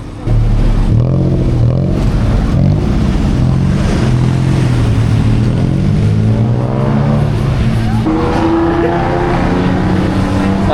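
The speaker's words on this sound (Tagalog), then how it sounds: "Alam mo mga kotse, tuk-tuk yun." Night street traffic in Bangkok's Pratunam district, with tuk-tuks and cars rumbling and revving past in a dense, continuous engine roar that shifts in pitch as vehicles pass close by.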